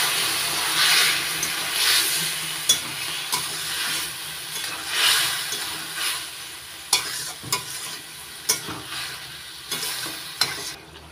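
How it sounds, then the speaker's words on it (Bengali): Spinach and lentil nugget curry is stirred in a pan, with soft scraping strokes over a gentle sizzle and hiss, and a few sharper taps of the spoon against the pan toward the end. "একটু নাড়াচাড়া করে দিচ্ছি।"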